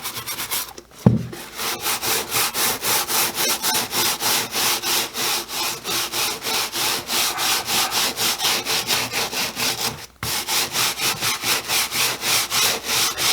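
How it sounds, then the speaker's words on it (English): A brush scrubbing the sides of a shoe to clean it: steady, rhythmic back-and-forth bristle strokes, close and continuous, with one brief pause partway through. "I'm taking my brush and I'm just going to start catching kind of the sides here"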